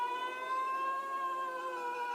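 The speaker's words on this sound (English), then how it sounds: "The bells are ringing, the sirens are wailing." A fire engine siren in a 1985 fire brigade procession wails steadily at close range, its tone sustained without pause.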